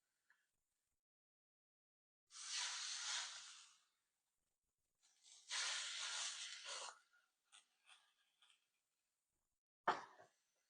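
Pork tenderloins seared in olive oil in a hot skillet give two bursts of loud sizzling hiss, each a second or two long, followed by a few faint clicks and a sharp final clatter.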